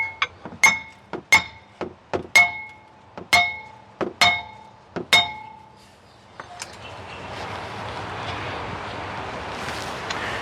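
About seven sharp metallic clanks from hammer blows on the front brake rotor of a 2010 Mercedes-Benz W212 E550, evenly spaced and ringing briefly, followed by a steady broadband hiss.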